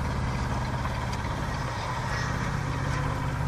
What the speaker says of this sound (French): je commence à m'habituer à ce moteur d'ailleurs